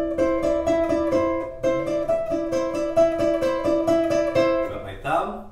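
Ukulele notes are picked with the pointer finger, giving short, clipped plucks in a quick, steady melodic run that is close and clear and ends in a brief strum.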